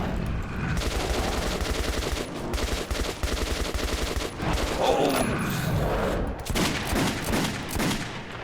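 Sustained automatic gunfire rattles through a tense fight in the video game Metro 2033, with dense overlapping bursts and barely a break. It stays loud and close for several seconds.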